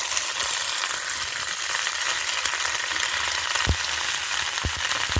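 Onion, chopped chilli, tomato and pumpkin pieces frying in a hot pan, a loud unbroken sizzle throughout, with a few dull thumps of the pan or spatula near the end and no voices.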